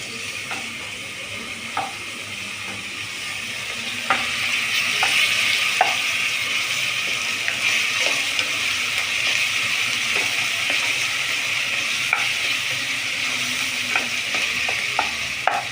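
Onions for khichdi frying in a pan, giving a loud continuous sizzle with occasional stirring clicks and scrapes, close up and without speech.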